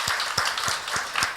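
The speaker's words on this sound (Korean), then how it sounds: "박수로 한번." A church congregation gives a short burst of applause, with soft, evenly spaced claps about three times a second that sound close and light.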